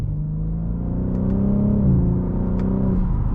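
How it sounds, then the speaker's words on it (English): A 2024 BMW M3 Competition xDrive with a Valvetronic mid-pipe pulls hard from inside the cabin, its deep engine note climbing smoothly and steadily, then dipping briefly at a gear change before rising again. "Wow, very seamless acceleration."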